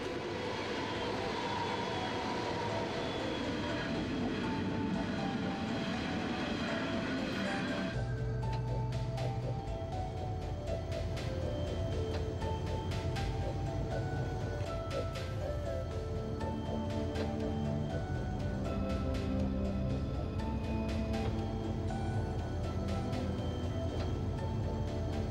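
A long coal train in the Hunter Valley rolls past steadily, its low rumble and clanking wagons holding a constant level, with a shift partway through as heavier, more rhythmic wheel-on-rail tones take over.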